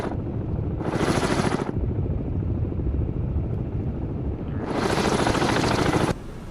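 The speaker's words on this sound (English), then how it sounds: "That's a helicopter." Loud, steady helicopter rotor chop in the submarine game Cold Waters throbbing throughout, with two bursts of brighter high-pitched whine swelling over it.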